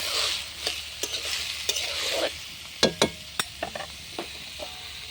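Potatoes, beans and kohlrabi fry with onion and green chili in a pan, a steady sizzle broken by repeated sharp scraping and stirring clacks, close and moderately loud with no voices.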